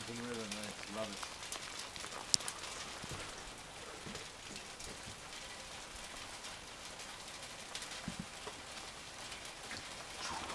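Steady rain patters on surfaces beside a mountain river during a wet hike, a continuous broadband hiss with occasional louder drops and faint background voices.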